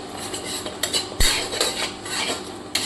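A spatula scrapes and clinks against a pan as dried red chilies, bay leaves, whole cumin, cardamom and a cinnamon piece are stirred in a little oil, with one sharp metallic knock midway and scattered clatter, without any talk.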